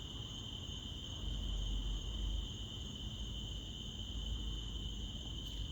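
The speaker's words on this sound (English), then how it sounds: "Those crickets are soothing." Steady, high-pitched chirping of crickets continues throughout, constant and unbroken over a low rumbling background.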